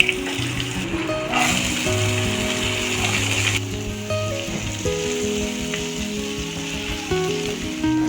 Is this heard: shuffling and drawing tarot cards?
no